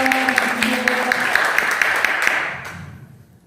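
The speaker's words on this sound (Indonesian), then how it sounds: "Berikan aplaus untuk Pak Vito." A crowd at an Indonesian partnership event applauds a man named Vito with dense, steady clapping and a few sharper claps that fade out over the last second. Some vocal sounds sit faintly under the applause.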